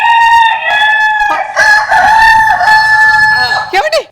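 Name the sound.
rooster crowing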